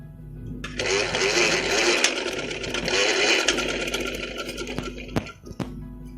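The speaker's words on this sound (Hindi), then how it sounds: "हमने इसी तरह डबल सिलाई लगा देंगे।" A sewing machine runs steadily for several seconds, stitching a double seam along the back neck of a ladies' kameez, then stops, followed by a few sharp clicks.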